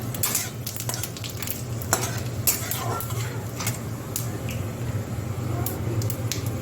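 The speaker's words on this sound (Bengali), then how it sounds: "এখন দিয়ে দিচ্ছি দুটো শুকনো লঙ্কা আর সাদা জিরে।" Dried red chillies and cumin seeds sizzle in hot oil, a steady crackle under repeated sharp clinks and scrapes of a spoon against the pan.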